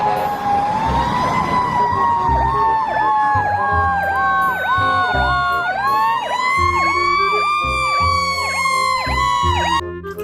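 A toy fire truck's electronic siren wails continuously and loudly at close range, its two-tone sweeping pitch looping steadily with a brief shift partway through, alone with no talk.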